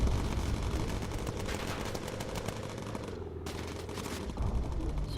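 Bomber Crew game: a bomber's guns fire incendiary rounds in a dense, continuous rattle of rapid shots that briefly drops out near the end before resuming, loud over a rumbling engine-like background.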